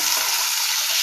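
Cumin seeds sizzle in hot oil for a traditional Bhogi dish for Makar Sankranti, a steady, close, bright crackling hiss with no voices.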